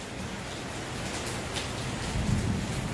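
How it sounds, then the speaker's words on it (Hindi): Heavy monsoon rain pours steadily on a farm in Maharashtra, a dense continuous hiss with a low rumble swelling near the end that may be distant thunder; no voices. "देखिए किस तरह की बारिश पड़ रही है।"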